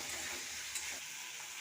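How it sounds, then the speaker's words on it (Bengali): Ginger-garlic paste, chopped tomato and green chili sizzle steadily in hot oil as a spice paste is fried for fish-head muri ghonto, a constant close hiss with faint stirring and no voices. "এবার আদা রসুন বাটাটা দিয়ে দেবো, দিয়ে ভালো করে মশলাটাকে কষিয়ে নেব"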